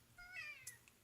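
A house cat gives a single short, quiet meow, rising then falling, followed by faint small clicks in a quiet room.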